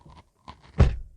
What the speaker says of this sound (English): The door closes with a proper thud.